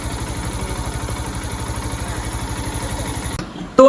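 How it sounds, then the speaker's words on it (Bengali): Yamaha FZS V2 motorcycle engine idling with a steady, rapid ticking rhythm running close and continuous, then briefly dropping off near the end. "ইঞ্জিন থেকে টিক টিক টিক টিক একটা সাউন্ড হচ্ছিল"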